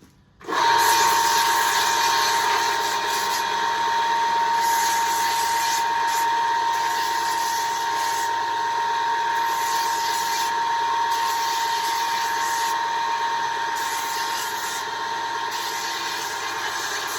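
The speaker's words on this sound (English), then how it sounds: "I'm going to use my sanding station. So excuse me, I'm just going to get the sharp bits off" Electric sanding station smoothing the sharp edges of cigar box guitar parts, a loud continuous motor whine with abrasive grinding that pulses as the workpiece is pressed on and eased off.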